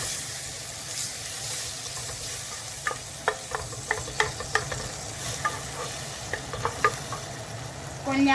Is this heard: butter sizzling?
yes